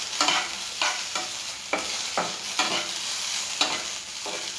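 Food fries in a couple of teaspoons of oil while a spoon stirs it, giving a steady loud sizzle broken by repeated scraping strokes at a regular pace.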